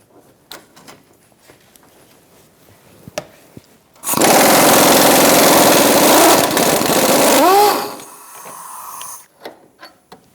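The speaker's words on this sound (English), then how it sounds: "I can just get my gun in there and get that off" A pneumatic impact gun with a 19mm socket removes a bolt from a 2004-2009 Mazda 3 front lower control arm, a loud sustained buzzing whir of about four seconds, with quiet clicks and handling noises before and after.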